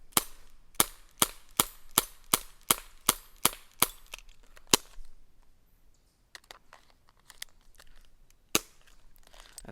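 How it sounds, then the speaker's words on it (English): A Crosman airsoft pistol firing at paddle targets in rapid sharp cracks, about ten shots in quick succession, then a pause with faint clicks and one final shot. "we'll go 1, 2, 3, and see if I can actually do this with this gun"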